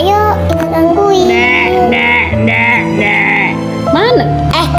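A goat in the game Sakura School Simulator bleats several times, loud and wavering, in the middle of excited children's voices talking over it.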